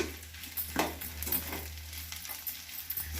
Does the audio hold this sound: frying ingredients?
yes